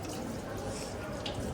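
Water pours steadily from a push tap at a government school, a continuous splashing rush throughout, with faint voices in the background.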